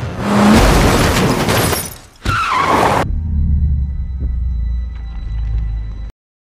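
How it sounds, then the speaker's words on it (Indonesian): A car rams into someone in a film scene: a loud engine roar and skid, a sharp cut, then a lower rumbling vehicle drone with faint impacts that stops abruptly. "si Kopet langsung menabrak menggunakan mobil Abe"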